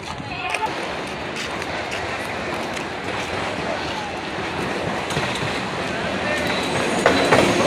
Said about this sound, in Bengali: বিশ থেকে চেঙ্গারপেট যাওয়ার ট্রেন আসছে